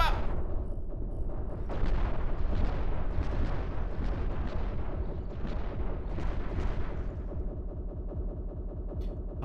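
Ship guns in the Cosmoteer space game firing rapidly, a dense stream of quick thumping shots over a steady low rumble, moderately loud and continuous.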